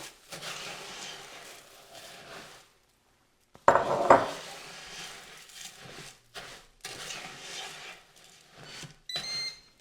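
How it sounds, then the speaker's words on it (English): Fruity Pebbles cereal is stirred into melted marshmallow in a pot. The spoon scrapes and knocks against the pot in bursts, loudest in a short clatter near the middle, with a brief quiet gap before it. "So just dump in all of the Fruity Pebbles and stir really well."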